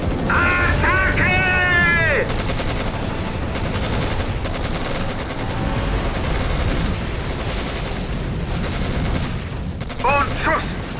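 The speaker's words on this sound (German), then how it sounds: "Werden beschossen!" Dense bursts of rapid gunfire crackle nonstop with booming impacts in the video game Codename: Panzer Phase One, while high whistling tones rise and fall at the start and end.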